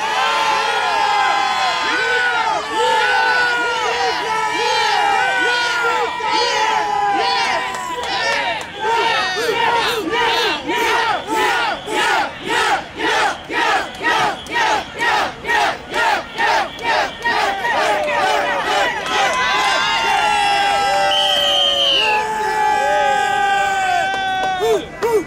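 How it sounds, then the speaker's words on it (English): A large outdoor rally crowd for dignity and housing roars with cheers, then breaks into a loud, rhythmic chant of repeated short phrases, with whistles and shouts continuing throughout. "I want all of you to cheer and chant so loud that Patterson can hear you all the way in Puerto Rico."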